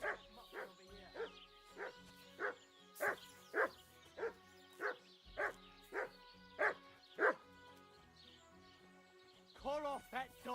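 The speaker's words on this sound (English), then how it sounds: "Call off that dog." A dog barks repeatedly in a steady rhythm, a dozen or so evenly spaced woofs at moderate loudness, followed by a short pause and a cluster of fainter yips and whines at the end.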